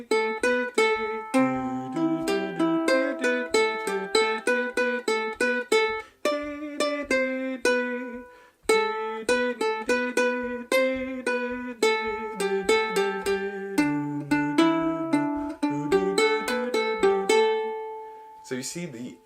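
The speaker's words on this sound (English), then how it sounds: "There's also a uke melody that sounds like this." A bright plucked ukulele melody, quick picked notes in a steady rhythm, two short phrases separated by brief pauses, played alone and close.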